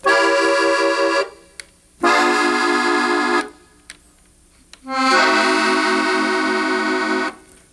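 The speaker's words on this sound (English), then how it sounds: "Diminished chords can sound like this" Three diminished chords played on an accordion in Tex-Mex style, each held for a second or two with brief silences between, reedy and bright, loud and close, no voices.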